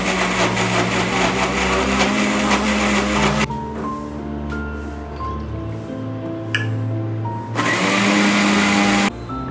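A kitchen mixer grinds coconut, turmeric, green chilli, garlic, cumin and salt into a paste for dal curry, a loud whirring motor roar that cuts off briefly, leaving faint clinks, then surges again.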